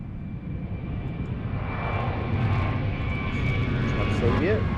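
Transavia airliner taking off from Lisbon Airport bound for Paris Orly, a steady roaring jet engine rumble that builds gradually, heard from nearby with some talk over it.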